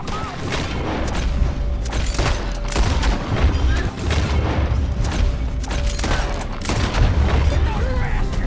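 Gunfire in Red Dead Redemption 2 rattles on for the whole stretch, loud, dense overlapping shots and booming blasts with barely a pause between them.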